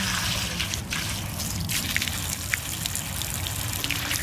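Water gushes and splashes steadily from a water heater's drain outlet as it is flushed, a continuous rushing flow with occasional spattering, close by and without voices.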